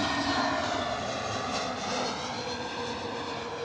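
Airbus A320neo jet engines at Bristol Airport give off a steady, loud, whining roar with high tonal harmonics, sustained throughout in wet, stormy weather with no talking.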